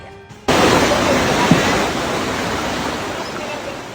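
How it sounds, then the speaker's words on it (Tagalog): Muddy floodwater from Mayon Volcano rushes down a road in Ginobatan, Albay, a loud, steady roar of torrent that starts abruptly and continues without pause. "Nabulabog ng rumaragasang baha ang ilang taga-Ginobatan sa Albay."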